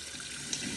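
Water runs steadily from a bathroom tap into a sink. The rush is close and even, with no talking over it.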